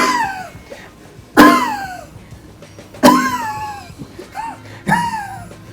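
A voice imitates a cough heard over a crackly, degraded 2G phone line: three loud, harsh bursts, each trailing into a warbling, falling tone, with brief pauses between them.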